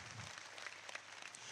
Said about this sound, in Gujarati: એકવાર જોરદાર તાળીઓ સદારામ બાપાના નામથી